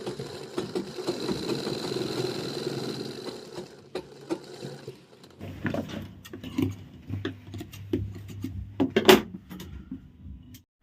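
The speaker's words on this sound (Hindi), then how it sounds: "और इस पे यहाँ से सिलाई लगा देंगे" Sewing machine stitching fabric for ladies' pants, a steady mechanical hum and rapid needle rhythm that pauses, then resumes in shorter bursts with clicks and handling noises, close by.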